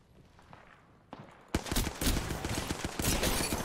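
Gunfire in the battle royale shooter Apex Legends: quiet movement, then from about 1.5 seconds a dense, loud stretch of rapid automatic shots that continues to the end.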